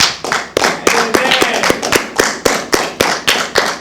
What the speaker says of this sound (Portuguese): para a gente aplaudir esse trabalho maravilhoso que vocês estão fazendo